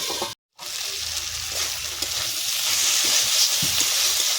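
Ribbonfish curry with potato and tomato being sautéed in a pan, a steady broad sizzle that briefly cuts out near the start, then continues and grows slightly louder with faint stirring knocks.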